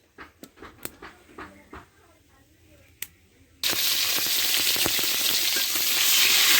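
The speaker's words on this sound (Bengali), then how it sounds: "ডিমগুলো ছিঁড়ে ছিঁড়ে দিয়েছি দিয়ে ভেজে নিচ্ছি" Eggs frying in a pan: after a few seconds of quiet clicks and knocks, a loud, dense sizzle suddenly bursts in and holds steady, close by, with no talking.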